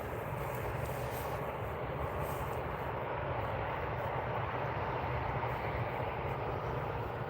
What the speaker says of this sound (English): So it's Ryanair coming in again.